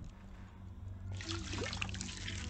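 Water poured in a Haunted Hotel 8: Eternity hidden object game, a soft trickling splash that begins midway over a low steady music drone, faint and alone.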